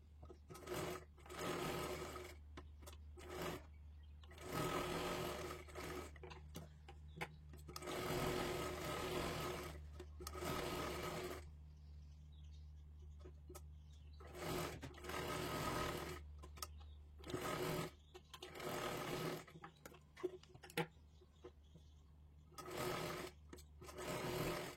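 A sewing machine stitching a blouse sleeve in repeated runs: a loud, close, whirring rattle sounds in bursts of a few seconds, separated by short pauses, with a quiet hum between.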